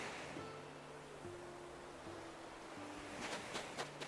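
Ocean waves wash onto the shore in Animal Crossing New Horizons, a soft continuous surf hiss with a few gentle swells and faint game tones, alone and moderately quiet.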